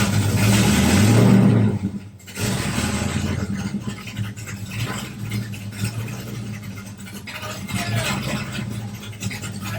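A Chevrolet Nova project car engine, its carburettor unused for a couple of years, cranks and fires up in a garage, settling into a rough steady idle after a loud first burst.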